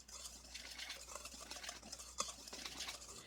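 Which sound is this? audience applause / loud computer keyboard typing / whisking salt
whisking salt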